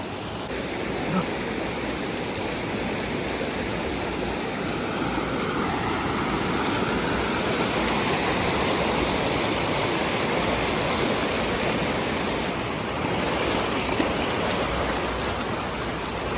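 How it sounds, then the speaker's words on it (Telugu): Talakona waterfall rushes in a loud, unbroken roar of falling water that stays steady and close for the whole stretch, with only faint voices beneath it. "పైన ఇంకా ఒక పెద్ద వాటర్ ఫాల్స్ ఉందంట"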